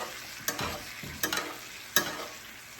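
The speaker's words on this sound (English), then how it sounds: "Let's get our aromatics back on top. And now we baste the other side, right?" A ribeye steak is basted with sizzling butter, garlic, thyme and rosemary. Spoonfuls of hot butter splash onto the meat in a few sharp bursts over a steady pan sizzle, with no talk.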